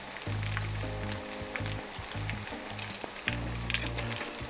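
Small smelt fish frying in a pan, a close crackling sizzle with occasional stirring clinks and a low steady hum underneath.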